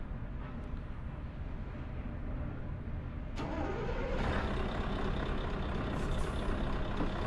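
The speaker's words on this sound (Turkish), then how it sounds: "Aracın sesi falan da güzel." A truck pulling a tandem trailer starts up, a steady low engine rumble joined by a sudden hiss and rising whine as it catches and settles into a louder idle, heard from nearby with no talking.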